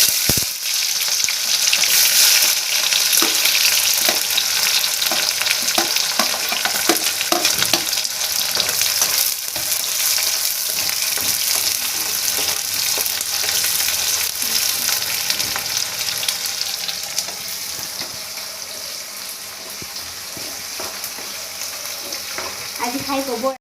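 Onions frying in a pan of melted sugar, with a steady loud sizzle and occasional stirring running throughout, easing slightly toward the end.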